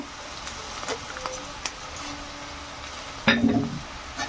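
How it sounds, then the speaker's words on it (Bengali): Onion, chilli, ginger, garlic and urad dal frying in a pan give a soft, steady sizzle, with a louder crackle for a moment as more goes in near the end. "এবার একটু লাল করে ভেজে নেব পেঁয়াজ মরিচ আদা রসুন সব কিছুতে এখানে দিয়ে দেবো কিছুটা কলের ডাল"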